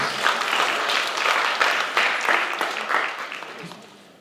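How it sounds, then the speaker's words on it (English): Audience applause at a film festival panel event, a dense burst of clapping that swells and holds near the listener, then gradually fades toward the end. "Let's give them a round of applause, please."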